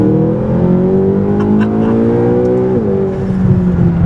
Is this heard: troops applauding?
no